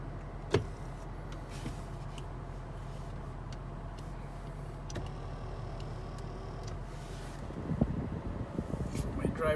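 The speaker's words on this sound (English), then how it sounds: "Moving the seat for backwards and moving the steering wheel upwards so that it will be convenient for you." Power seat and steering column motors adjusting inside a 2005 Cadillac STS, a steady low electric drone filling the cabin with a few faint clicks, and someone talking over it.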